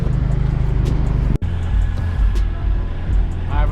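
A 2018 Subaru WRX with a catless J-pipe exhaust idles close by, holding a steady low rumble that cuts out for an instant before settling back into the same burbling drone.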